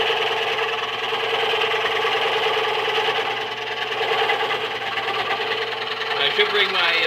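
A Harbor Freight scroll saw cuts a Christmas bells pattern in wood, its steady reciprocating motor buzz loud and continuous throughout with a slight rattle, and no voice over it.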